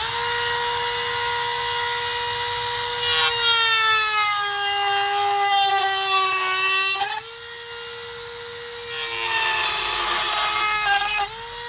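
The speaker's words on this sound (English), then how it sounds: "Okay, let's get our cutoff wheel, get our Dremel, battery. Let's cut that out." A battery Dremel with a cutoff wheel whines at a high steady pitch while cutting, close and loud, the tone dipping and rising as the wheel bites, briefly interrupted midway and then resuming.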